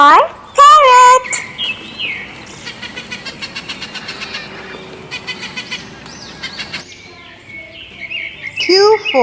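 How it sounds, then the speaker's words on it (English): Parrot calls: a few loud squawks near the start and end, with softer chirps and tweets scattered through the middle. "P for parrot."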